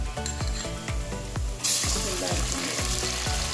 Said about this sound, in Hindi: अदरक लहसुन का पेस्ट, थोड़ा सा इसको घुमाऊंगी